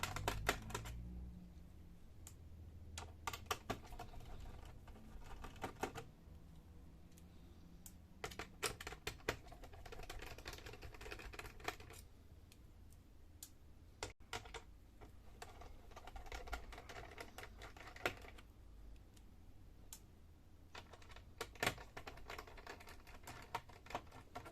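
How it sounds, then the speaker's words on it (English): Small screws being backed out of a Dell Vostro 15 laptop, heard as a faint, close run of light clicks and ticks from the screwdriver, irregular and quiet throughout with no talking. "Now we have here 5 screws to be unscrewed."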